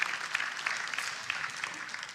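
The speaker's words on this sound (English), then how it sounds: "Give yourselves a round of applause." Audience applause fills a hall at a Christmas celebration gathering, a dense steady clapping from many hands heard at moderate distance and lasting the whole time.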